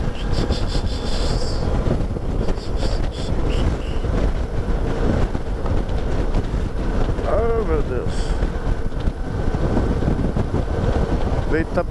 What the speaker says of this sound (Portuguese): Vento forte, tá empurrando a moto.